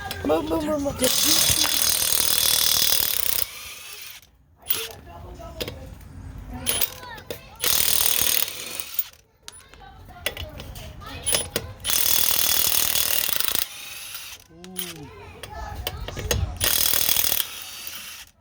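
A Milwaukee 2860-20 impact wrench run in reverse hammers lug nuts loose in loud, rattling bursts of a few seconds each, separated by short pauses, with a voice talking in between.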